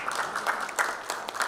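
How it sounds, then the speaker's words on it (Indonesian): Applause from the audience at a banking and IT summit panel discussion in Indonesia, a short burst of scattered clapping that is moderately quiet, with fairly soft individual claps. "Luar biasa, tepuk tangan dulu dong."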